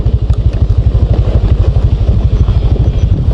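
Motorcycles ride a rough mountain trail on a camping trip in the Navaja heights of Toledo, Cebu. A loud, close engine thrums steadily, its low rapid pulses beating evenly throughout with no talk.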